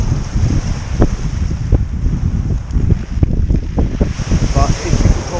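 A strong northerly wind buffets the microphone on the seashore at Tide Mills, giving a continuous rough rumble with gusty surges. Faint surf and a distant hiss sit beneath it.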